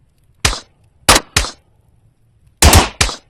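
Five suppressed pistol shots in the VR horror game Maleficence, built in Unreal Engine 5: sharp, close, dampened cracks, a single shot, a quick pair, a pause, then another pair, with silence between.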